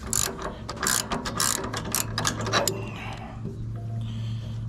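A ratchet wrench with a shallow 19 mm socket clicks through a fast burst of pawl ratcheting while adjusting belt tension on a Woodmizer LT15 wide sawmill, then slows to a few scattered clicks over a steady low hum.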